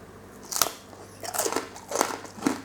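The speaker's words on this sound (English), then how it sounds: "it's moist, but it's crackly, crunchy, delicious" Crunchy roast pork crackling with a honey coating is bitten and chewed up close, several crisp, crackly crunches spaced about half a second apart, with no talk.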